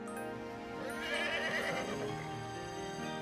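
A horse whinnies on a farm, one long, shaky neigh that rises and then trails off, heard alone and fairly close.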